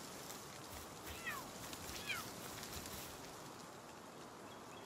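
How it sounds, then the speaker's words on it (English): Cat-like pal creature from the Palworld video game gives two short meows around the middle, faint and somewhat distant over a steady background wash of game ambience. "I'm hearing one of those cat things from somewhere."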